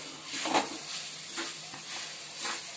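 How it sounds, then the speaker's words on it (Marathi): Coconut and jaggery modak filling is stirred and sautéed on low heat in a pan, giving a soft, steady sizzle with gentle periodic swishes of a spatula, close and quiet. "मंद आचेवर लालसर परतून घ्या, जेणेकरून गूळ वितळून जाईल।"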